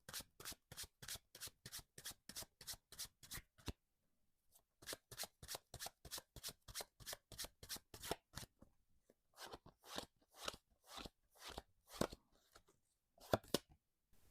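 A deck of tarot cards is shuffled close up in quick rhythmic riffling bursts, with a brief pause after the first run and then more ragged, uneven flicks toward the end; quiet and with no speech.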